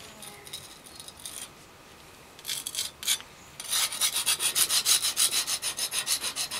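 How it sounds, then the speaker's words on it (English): Rubbing chemical residue off a stone face while doing farmhouse stonework, heard as a quiet rasp at first, then a few scraping bursts, building into a loud, steady run of rhythmic back-and-forth strokes close by. "you need to rub any excess chemical away"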